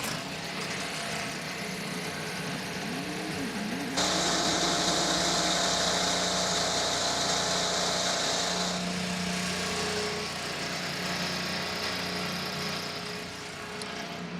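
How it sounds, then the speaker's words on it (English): IndyCar engines at a Grand Prix at The Thermal Club fire up together into a loud, steady idle, the droning chorus jumping sharply in intensity partway through and holding with no voices. "Drivers, start your engines!"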